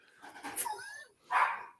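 A dog barks twice in quick succession, a short yipping call followed by a louder bark, heard over a casual sports recap conversation.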